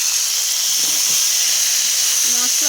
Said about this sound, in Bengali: মশলার সাথে একটু ভালো করে কষিয়ে নিই।